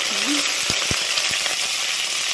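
Curry leaves hit hot oil in a tempering of dried red chilli, mustard seeds, cumin and lentils: a loud, dense, continuous sizzle close by, with a few sharp crackling pops.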